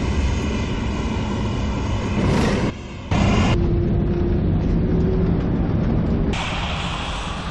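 An Airbus A320 lands in Microsoft Flight Simulator X, a steady loud jet engine roar with a short drop near the middle, then the engine pitch shifts and a rising whine joins late in the clip.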